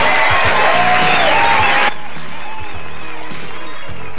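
Loud audience applause at a stand-up comedy show, with a whistle over the clapping, breaks off abruptly partway through, leaving quieter room sound and a few scattered claps.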